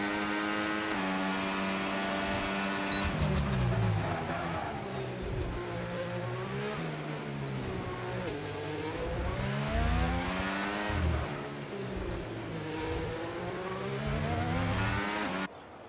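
Race car engine in a racing video game, revving up and down smoothly through gears with a steady mid-pitched whine, continuous and close throughout, no talking.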